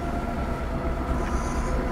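A double header special train runs along the Peninsula Corridor in Train Sim World 3, giving a steady low rumble of rolling wheels and engine drone, unbroken for two seconds.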